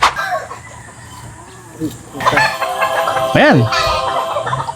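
A chicken held in someone's hands on a farm gives a few short clucks and a rising squawk, close by, with people talking over and around it.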